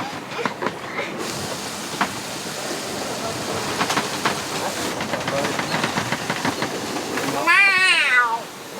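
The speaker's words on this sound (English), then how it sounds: "Eating cat." Aboard a sailboat in strong wind during an Atlantic crossing, a cat lets out a wavering meow near the end, after a stretch of rushing wind and creaking boat noise with scattered clicks.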